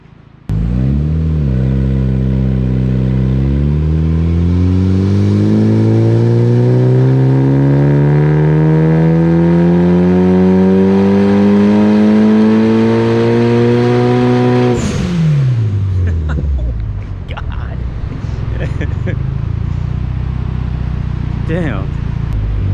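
A Mitsubishi Evo 9 engine on a dyno with bolt-ons and a safe tune, revving in one long, loud rising pull for about fourteen seconds before lifting off, then settling into a lower idle while people talk over the running engine.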